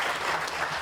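Audience applause for the speakers at a river restoration summit on low dams, a steady wash of many hands clapping with no break through the short burst.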